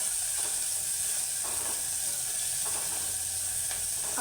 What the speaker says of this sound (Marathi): असा कांदा छान परतून घ्यायचा